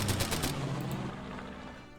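Gunfire from units in the war strategy game Order of Battle, a quick rattle of shots at the start that fades into a lingering rumble over about two seconds, with no voices.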